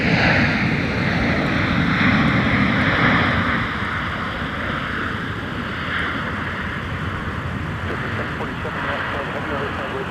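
An airplane taxis at Minneapolis–Saint Paul (MSP) airport, its engines producing a continuous broadband roar that stays loud and fairly even, swelling slightly early on and then holding steady.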